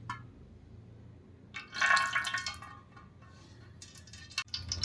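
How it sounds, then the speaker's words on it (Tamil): A stream of cooking oil pours into a hot pan in a short, close, bright gurgling splash. Quieter trickles and light clatter follow. "ஒரு 200 ml ஆயில் ஊற்றிக்கலாம்."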